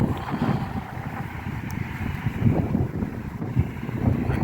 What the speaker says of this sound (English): the microphone will exaggerate just how windy it is